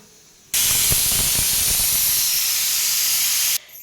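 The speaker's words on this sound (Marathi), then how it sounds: "इथं कुकर लावला छानपैकी आता" A village kitchen pressure cooker venting steam, a loud continuous hiss that cuts in abruptly, holds steady for about three seconds and stops sharply, with faint rattling at its start.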